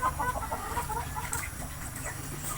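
A chicken clucks softly and repeatedly nearby, a steady stream of short calls over a low rumbling background.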